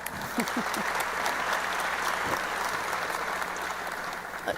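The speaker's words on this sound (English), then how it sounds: "Thanks for clapping it up for our panelists." An audience claps for a panel of speakers at a youth sports event, a dense, even roar of hands that holds steady throughout, moderately near and without voices over it.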